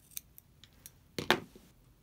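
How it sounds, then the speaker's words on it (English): Scissors trim excess material from a handmade hair bow: a few light snips, then one louder, crisp double cut toward the end, close up and otherwise quiet. "I'm just going to cut off the remaining."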